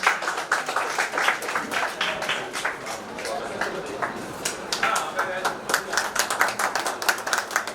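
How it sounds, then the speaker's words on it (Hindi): Clapping in welcome at a Rotary Club Gadarwara installation ceremony, a lively crowd of hands beating fast and unevenly for several seconds, with voices murmuring underneath. "एक बार तालियों के साथ उमेश जी का स्वागत।"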